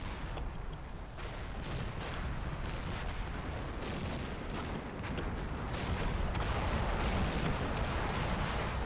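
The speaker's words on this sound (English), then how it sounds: "so we'll start dropping mortars on that. We've got a barrage coming in around here." A mortar artillery barrage in the wargame Combat Mission Final Blitzkrieg rumbles continuously with dense overlapping booms and crackling impacts, a steady loud wall of distant fire without talk.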